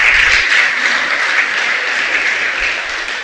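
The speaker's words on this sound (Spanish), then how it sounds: "Dale un aplauso al Eterno." Congregation at a Shabbat service breaks into steady, dense applause, a continuous wash of clapping filling the room for a few seconds with no talking over it.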